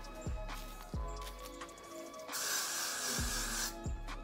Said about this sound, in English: spray all of that on there Got2b free spray